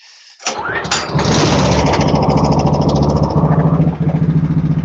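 A vintage four-stroke snowmobile engine cranks and catches, then settles into a loud, steady, rhythmic close-up idle with a brief dip near the end, without talk.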